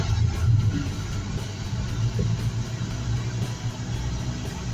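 A 1974 Chevy Monte Carlo idles in park with the AC compressor running, making a low, steady engine rumble with a slight irregular lope and no talking.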